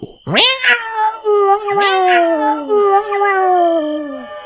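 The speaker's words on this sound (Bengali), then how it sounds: "বাড়ির পেছনের দিকে দিয়ে একটা কালো বিড়াল বিকট ভাবে ডেকে গেল।" A black cat yowls loudly and close by in long, wavering, drawn-out cries, with several rising wails in a row, used as an eerie effect in a horror story.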